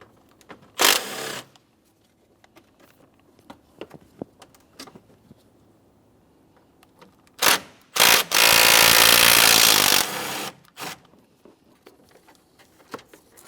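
Power tool removing 10mm bolts from the radiator fan of a 2014-2018 Mazda 3: short sharp bursts followed by a sustained loud whir of about two seconds, close, with light clicks and handling noise in between.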